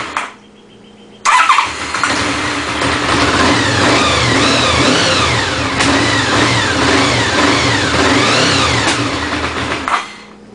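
A 1992 Honda VFR750 RC36 motorcycle engine fires up and runs loud and close for about nine seconds, its idle surging and wavering unevenly with a misfiring stumble, then cuts off abruptly.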